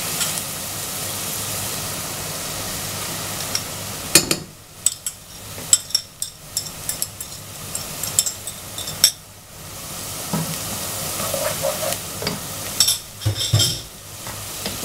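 Onion and garlic sautéing in a pan, a steady soft sizzle broken by repeated scrapes and clinks of a utensil stirring against the pan, with irregular louder knocks through the middle, close and alone without talk.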